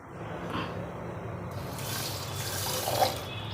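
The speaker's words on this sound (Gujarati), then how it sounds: "ખાંડ ડૂબે એટલું પાણી નાખવાનું" Water runs from a tap or is poured over sugar to make syrup for fasting-style motichoor laddoos. The flow is a steady, fairly close rush that gets brighter and fuller partway through. No one speaks.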